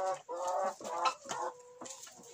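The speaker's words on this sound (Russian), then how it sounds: "Вот кура." A hen in an unheated barn shed gives a run of close, nasal clucks and drawn-out tonal calls in uneven bursts, clear and alone.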